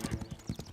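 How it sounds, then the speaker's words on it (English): Horse hooves clip-clop in a quick, even rhythm in a children's cartoon, about eight close, crisp beats in under a second, with no talk over them. "What's the big deal, Sarah? It's just a horse"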